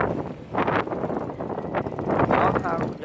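Strong wind buffets the microphone beside the Cái Răng river at the floating market during a boat-racing festival opening, a steady low roar that swells in gusts while people talk over it.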